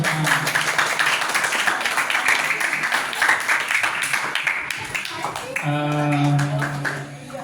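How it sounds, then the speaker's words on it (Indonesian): An audience at a religious youth gathering claps hands as a dense, continuous patter of claps mixed with crowd voices, with a person speaking over the end. "Oke, tepuk tangan semua."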